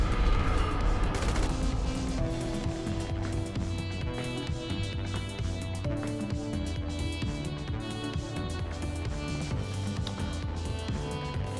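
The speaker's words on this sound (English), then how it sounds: "Oh, we're getting shot, blood! Taking heavy fire!" Heavy gunfire erupts in an online assault mission in the video game GTA 5 Online: dense, rapid volleys of shots and bursts that carry on steadily over a loud layered game soundtrack for the whole stretch.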